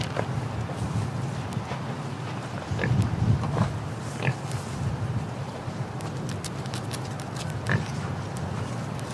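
Pigs oinking and grunting close by in and around a hut, low snorts over steady outdoor background with occasional sharper squeals and clatter.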